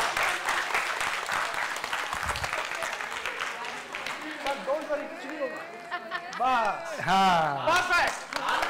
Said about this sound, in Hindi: ओके जोरदार ताली बजा दीजिए